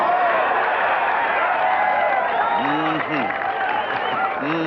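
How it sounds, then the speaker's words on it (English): Golf gallery at the 18th green of Pebble Beach during the 1982 U.S. Open final round, a large crowd roaring steadily in reaction to Jack Nicklaus's birdie, a continuous broad swell of distant cheering and applause with a commentator talking over it. "Noise you hear. Crowd here at 18 has just seen that Nicklaus has birdied the last hole on the scoreboard."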